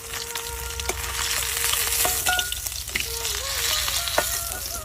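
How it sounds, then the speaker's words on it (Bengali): Remaining lata (snakehead) fish frying in a kadai, a steady loud sizzle with crackling spits and occasional clinks of utensils throughout, no voices. "বাদ বাকি মাছগুলো আর ভাজে নেবো।"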